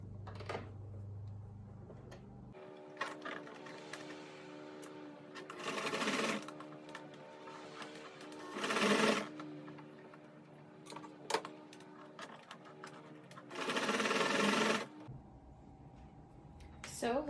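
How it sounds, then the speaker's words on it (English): A sewing machine stitches elastic onto a fabric medical cap in several loud, rapid bursts of whirring needle hum between quieter pauses, close up with a little handling noise. "you want to be stretching the elastic as you're sewing."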